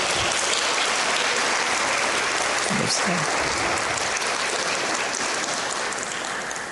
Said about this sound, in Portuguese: Uma salva de palmas ao novo capixaba.